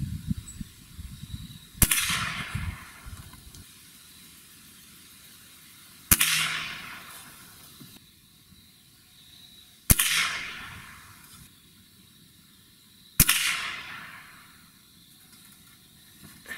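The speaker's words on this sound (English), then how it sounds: "The first five shots that this gun has ever taken, and that was a really nice little group." A Gamo Swarm Magnum .177 inertia-fed air rifle fires hollow point pellets: four sharp, loud cracks spaced a few seconds apart, each trailing off in a hissing decay, with quiet stretches between shots.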